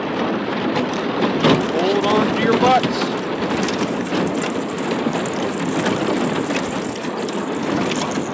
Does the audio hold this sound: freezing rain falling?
yes